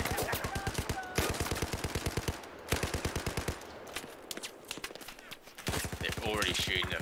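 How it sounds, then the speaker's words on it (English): Rapid bursts of machine gun fire in a video game, loud and close, repeating in long rattling volleys with short gaps, with players talking over the shooting. "They're already shooting at us."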